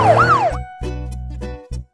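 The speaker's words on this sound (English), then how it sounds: "Look, kids, that's a police car." Police car siren wailing loudly and close in a children's cartoon, a rising and falling sweep, followed by a few short electronic bursts.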